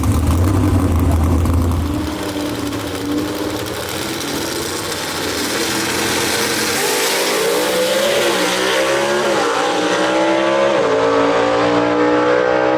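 A 1958 Corvette with a big-block engine launches in a gasser drag race at Shadyside Dragway, its loud engine roaring and climbing through gear changes as it accelerates away, rising in pitch and gradually receding.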